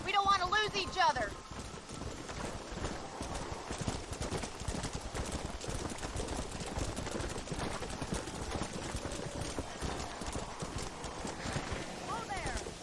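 A horse gallops at speed in Red Dead Redemption, hooves pounding in a fast continuous rhythm close by, with stormy weather noise and spoken voices over it.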